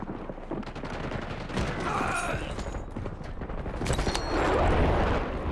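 Heavy gunfire from the video game Black Ops 6 Warzone on Verdansk, with dense rattling bursts and shots running almost without pause through the whole stretch, loud and close, with no talk.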